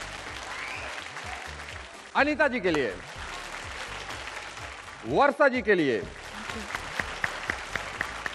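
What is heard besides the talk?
audience applause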